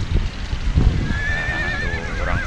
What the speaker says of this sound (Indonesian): Kudanya galak.